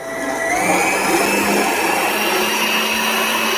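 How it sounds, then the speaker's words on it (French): A stand mixer whisks meringue for a pavlova, its motor whirring loudly and rising in pitch as the speed is turned up, then holding a steady high whine close by. "Et j'accélère maintenant un petit peu la vitesse de mon robot."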